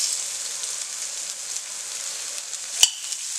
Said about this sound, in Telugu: మనకి పోపు వేగిపోయింది కదా, ఇందులో మనం ఇప్పుడు ఉల్లిపాయలు వేసేసుకుందాం